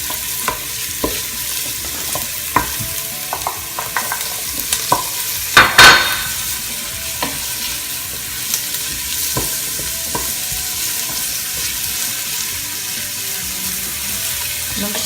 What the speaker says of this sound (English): add the onions. And this is on quite a high heat.